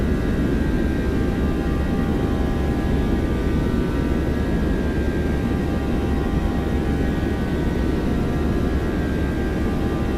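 Boeing 737-800 jet engines at takeoff thrust in the X-Plane 12 flight simulator, a loud, steady, unbroken roar with a faint whine on top, continuous and alone.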